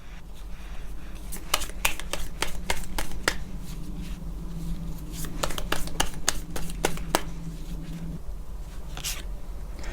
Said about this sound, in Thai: ต่อไปแม่หมอเปิดไพ่ Oracle เสริมให้นะคะ